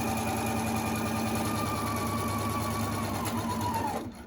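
Sewing machine stitching a rectangular fabric face mask, a steady close mechanical hum with fast rhythmic needle chatter that runs on, then stops abruptly at the end.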